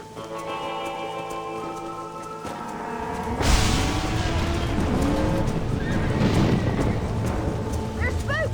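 Spooked horses neigh and whinny in Red Dead Redemption during a rainy storm, shrill cries rising over hoofbeats and rain as a loud rush builds and voices talk in the background.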